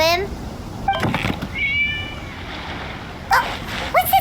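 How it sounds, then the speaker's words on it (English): A cat meowing several times in short, bright cries, moderately close, over a quiet background with faint splashing. "It was just a cat."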